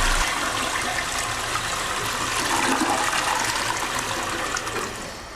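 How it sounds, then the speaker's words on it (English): A household toilet flushing: a loud, continuous rush and gurgle of water that stays steady for several seconds, then begins to ease off at the end, close by with no talking. "when you flush your toilet"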